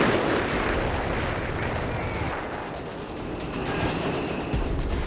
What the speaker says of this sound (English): Never mind all the artillery.